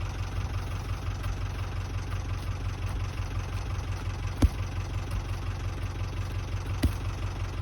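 A small tractor engine idles on a farm with a steady low rumble and chug, interrupted by a couple of sharp knocks.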